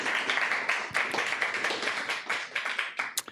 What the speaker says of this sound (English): Let's give them a round of applause for everybody